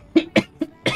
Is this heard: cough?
yes